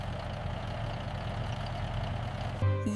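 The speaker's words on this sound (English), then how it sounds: "The delivery van is here!" A delivery van's engine idles nearby in a steady low rumble, then a brief tonal sound cuts in at the very end.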